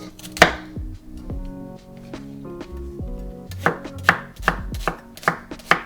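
A large garlic is chopped on a board with a knife, a run of sharp, close knocks that come in irregular bursts and then speed into a quicker steady rhythm near the end.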